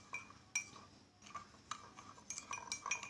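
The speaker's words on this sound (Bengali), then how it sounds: "এটা একটু নাড়া দিয়ে নিতে হবে, তাহলে নিচে জমে থাকবে না।" A spoon stirs cardamom tea in a cup, making light, scattered clinks against the sides. The taps are faint and close, with no talking.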